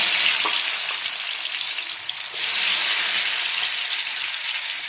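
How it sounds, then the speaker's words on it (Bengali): Cashew nuts fry in a mix of ghee and oil for basanti pulao, giving a steady, dense sizzle throughout with a brief dip midway and faint stirring clicks, no voices. "ঘি আর তেল দিয়েছি, এতে কিশমিশ আর কাজু বাদামটা একটু ভেজে নেব।"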